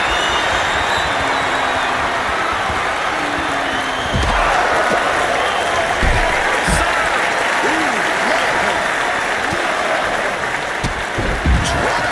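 A loud, dense arena crowd roars and cheers continuously at a WWE 2K25 wrestling match, with a few thuds and slams cutting through the constant wash of noise.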